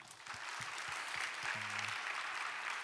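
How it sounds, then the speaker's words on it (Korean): Soft, steady applause from an audience at a church university-group talk show, fairly distant and continuous, with a few low thumps near the start. "박수 한번 할까요?"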